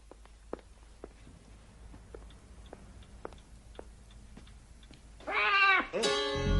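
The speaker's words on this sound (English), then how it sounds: "I didn't know you had a cat." A house cat lets out two drawn-out, close meows near the end, after a stretch of faint ticking and soft room sounds, heard alone without talking.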